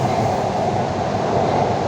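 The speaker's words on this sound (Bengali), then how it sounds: "ট্রেন যাচ্ছে দেখতে পাচ্ছ" Kolkata underwater metro train running on the line between Howrah and Mahakaran, a loud, steady, close rumble with dense low roar and constant rolling noise throughout.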